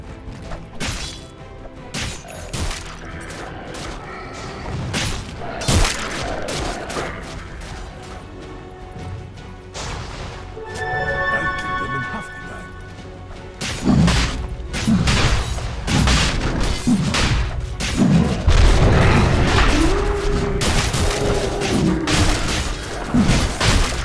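Combat in Dota 2 around a besieged tower: a steady run of thuds, booms, smashes and metallic hits with spell effects, building into a denser, louder clash in the second half.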